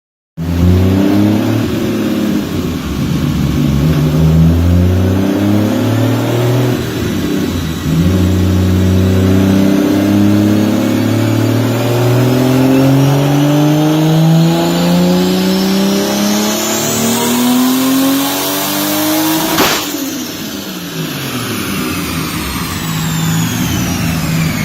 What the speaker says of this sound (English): Hopefully I cut to dyno pull footage.